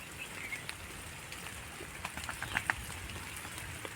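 Light rain falls outdoors where a flock of sheep and a dog shelter under trees, making a faint, steady patter with a few sharper drops standing out near the end.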